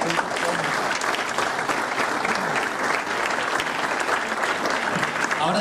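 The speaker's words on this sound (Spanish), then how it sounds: "recibamos con un aplauso a Armando Leal Ríos y empecemos Café con Historia" Audience applause at an anniversary talk in a history lecture series, steady dense clapping from a seated crowd filling the room throughout, with faint voices mixed in.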